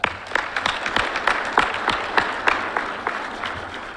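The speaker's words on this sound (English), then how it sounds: "Let's give her a round of applause." Audience applause for the guest speaker at a fire recruit class graduation ceremony, a moderate crowd clapping with distinct individual claps, steady throughout and tapering slightly at the end.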